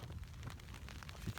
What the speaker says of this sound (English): it's that fine rain that soaks you through